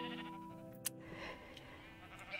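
Pink sheep in Minecraft bleat twice, each call short and clear over a steady bed of background music.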